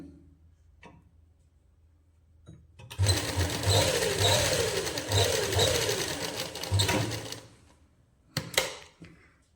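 An electric sewing machine stitches a seam on a winter suit for a one-and-a-half-year-old boy in one steady whirring burst of about four seconds, then stops, with a couple of short bursts afterward.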